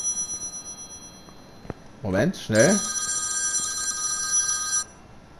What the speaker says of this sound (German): Telefon.